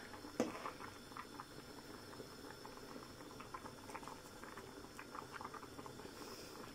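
Bulgur with minced meat simmers in a pot, giving a soft, steady bubbling and patter close by, quiet and uninterrupted, with one small knock near the start.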